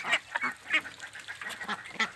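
Yi Liang ducks quacking in a series of short, repeated honking calls, several birds overlapping at close range with no talk.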